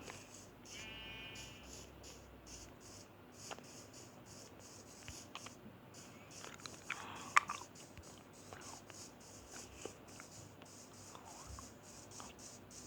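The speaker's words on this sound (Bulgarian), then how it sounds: "Ето пак една овца." Sheep in the video game Minecraft give a brief bleat early on, faint and distant, then scattered clicks and small game sounds over a quiet background.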